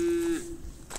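An Aberdeen Angus cross cow, sired by an Angus bull out of a local Kyrgyz cow, gives a single short low moo, close and alone, at a livestock market.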